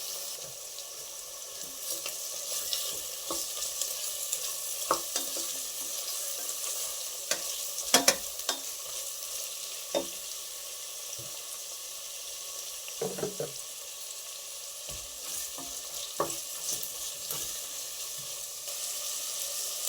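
Two large onions sliced lengthwise fry in a pan for kushka rice, giving a soft, steady sizzle close by, broken by occasional clinks and scrapes of stirring.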